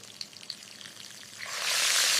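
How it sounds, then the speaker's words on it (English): Garlic, onion and peppers sizzle in a paella pan for Spanish cooking, starting as a light crackle with small pops, then swelling into a loud, steady hiss over the last second. "Listen to that sizzle."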